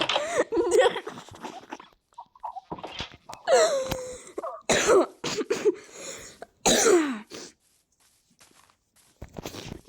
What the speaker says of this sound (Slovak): len som trošku kašlem